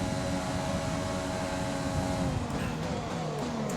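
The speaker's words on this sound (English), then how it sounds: "Look at the speed of the Ferrari there." A Ferrari Formula 1 car in the F1 2020 racing game at the Chinese Grand Prix screams past with a loud, continuous high-revving engine whine.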